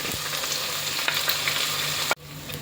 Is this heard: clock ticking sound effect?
no